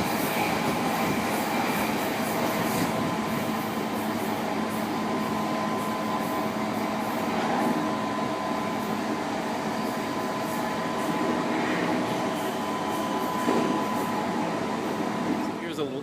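Steady rumble and rattle of a train in motion in Japan near Kobe, heard from inside a carriage, with constant hum and faint wheel noise throughout.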